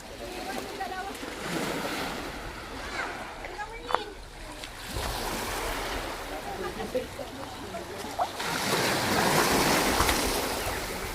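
Sea waves at Kamantigue beach, continuous surf washing and splashing close by, with a louder surge near the end and people's voices and shouts mixed in.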